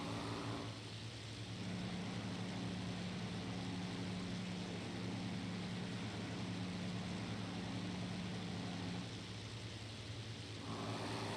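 Spitfire IX propeller aircraft engine in a flight simulator game, heard as a steady, unbroken drone that holds at an even loudness throughout with no talking.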